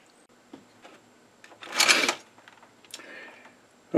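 A lathe parts off a metal workpiece for a press ram extension: one loud, broadband cutting burst of about half a second mid-clip, with quieter machine clicks and hum before and after.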